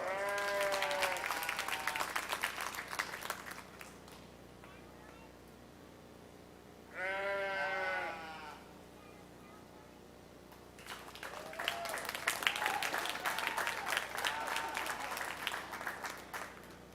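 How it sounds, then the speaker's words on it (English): Applause from the crowd at a Williams County junior fair sheep show, steady clapping for several seconds, then a lull with a single clear sheep bleat, then a second round of clapping. "let's give them all again a big round of applause"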